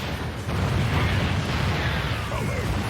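StarCraft 2 co-op bombardment, a continuous rumbling roar of explosions and blasts that swells after a brief quieter start and stays dense and heavy.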